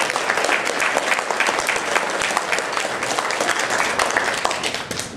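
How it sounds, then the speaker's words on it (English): Steady round of audience applause for the storytellers at an evening storytelling event, a continuous dense patter of many hands clapping at moderate level throughout. "Let's give another round of applause to all of our storytellers."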